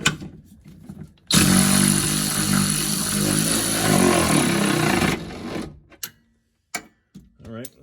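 An electric ratchet whirs loudly and continuously for about four seconds while tightening a Whiteline subframe locking bolt on a Subaru Impreza WRX GD, then stops, followed by a few clanks and brief speech.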